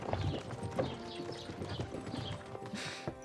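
Horse hooves clip-clopping steadily close by in the medieval role-playing game Kingdom Come: Deliverance 2, with the gear creaking alongside the hoofbeats and a faint whinny.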